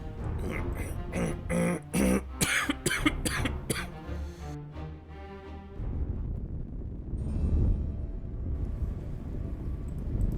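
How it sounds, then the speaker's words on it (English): Several harsh coughs burst out in quick succession from one person, loud and close, then fade into quieter breathing and low background noise. "Sorry about the coughing."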